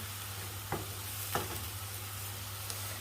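Red amaranth greens fry in a pan with a steady low sizzle, broken by two or three soft scraping stirs, heard close and alone.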